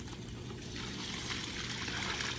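Water trickles and splashes while coarse aquarium sand is rinsed, a soft continuous pouring wash, close but faint with no talking.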